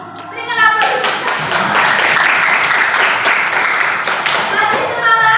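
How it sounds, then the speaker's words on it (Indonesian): A classroom audience of children bursts into sustained clapping that starts abruptly and carries on evenly throughout, with young voices mixed into the applause. "Berikan aplaus."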